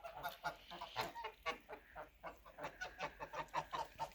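Geese honking repeatedly in a steady run of short calls, fairly close, with a faint outdoor background.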